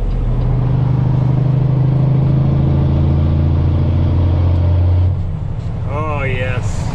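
Semi truck engine idling through its exhaust pipes, a loud, steady low rumble with a deep throb that dips near the end as a voice speaks over it.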